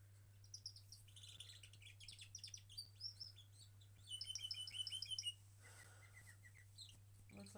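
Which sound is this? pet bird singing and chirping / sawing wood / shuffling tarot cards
pet bird singing and chirping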